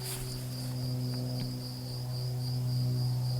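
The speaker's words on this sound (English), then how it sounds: "that you're in nature when you hear a cricket" A cricket chirps in a steady, unbroken trill that runs faint and even throughout, with no voices over it.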